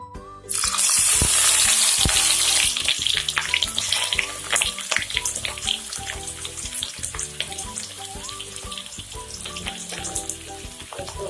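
Onions sizzle loudly in hot oil, the frying starting abruptly and continuing steadily, with occasional scraping stirs up close.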